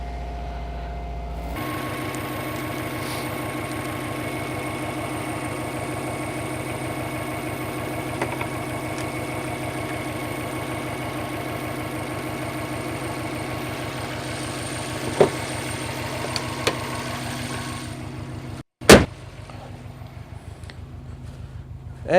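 A Subaru WRX engine held at a steady fast idle around 2,500 RPM, a continuous even drone with a fine pulsing rhythm, close and loud, running alone until it cuts off near the end with a brief blip after.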